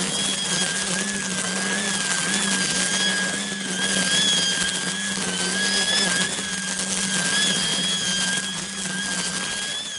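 A battery-powered brushcutter with a lithium-ion pack and electric motor, giving a steady, even whine with faint tonal overtones that holds for about ten seconds, close and continuous, with no talking.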